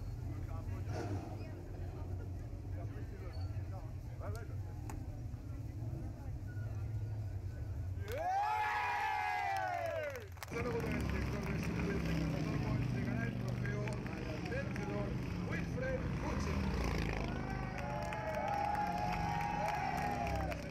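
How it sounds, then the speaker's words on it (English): At a race in Valencia, a race car spins celebratory donuts, its engine whine rising and falling in sweeping arcs midway, while a commentator talks over a faint crowd. "Wilfried Busenna celebrates with some donuts down."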